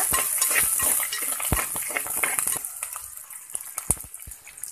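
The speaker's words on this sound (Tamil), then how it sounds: "பச்சை மிளகாவை சேர்த்துட்டு கொஞ்சம் நல்லா வதக்கி எடுத்துக்கோங்க" Cut green chillies sauté in oil in a pan for fish head curry. A close sizzle runs under repeated sharp clacks and scrapes of a spatula stirring, and the hiss thins toward the end.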